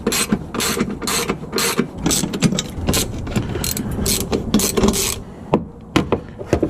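A ratchet loosens bolts on the coolant reservoir of a Volvo semi truck, giving bursts of rapid, close clicking in irregular runs with short pauses between them.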